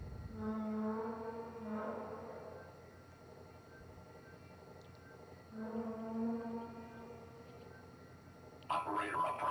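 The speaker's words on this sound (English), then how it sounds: "Also, sounds like an upset whale." An upset, whale-like creature in the game Prey lets out two long, mournful tonal moans with stacked harmonics, separated by a quieter gap, over a steady low ambient hum.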